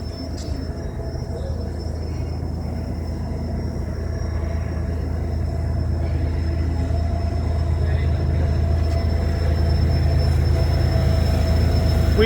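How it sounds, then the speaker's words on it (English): An eastbound CN train rolls past on a snowy night line, a steady low rumble and rail noise that slowly builds in loudness, with no voices. "we got a CN eastbound train coming down the line"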